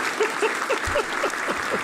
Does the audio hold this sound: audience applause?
yes